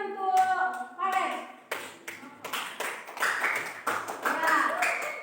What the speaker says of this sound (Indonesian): Tepuk tangan untuk Palen.